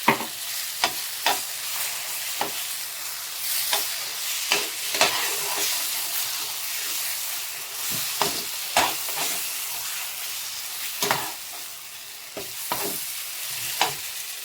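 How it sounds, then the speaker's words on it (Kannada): Semolina being stirred and fried in ghee for jackfruit laddu, a bright continuous sizzle punctuated by regular sharp scrapes and knocks of a spoon against the pan, close and fairly loud with no speech. "ಅದೇ ತುಪ್ಪದಲ್ಲೇ ಹಾಕಿ ಚೆನ್ನಾಗಿ ಫ್ರೈ ಮಾಡ್ಕೋಬೇಕು"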